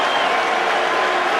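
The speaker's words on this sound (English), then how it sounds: "a resounding cheer for England as they come back out again" Crowd at a Nottingham cricket Test match between England and India applauds and cheers steadily, a dense, sustained wash of clapping from a large stadium audience.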